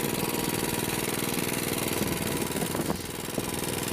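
A small diesel two-wheel walking tractor with a plough runs nearby in a steady, rapid putter, with a brief clattering rise near the end and no voices.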